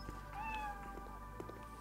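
A cat meows in the Cafe Owner Simulator video game, a couple of drawn-out mid-pitched cries over steady game background sound, with no talk.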